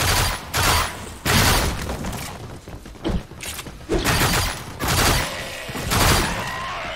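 Pistol gunfire in the video game Warframe: loud, dense bursts of shots and impacts come in repeated volleys with only brief gaps, mixed with booming effects.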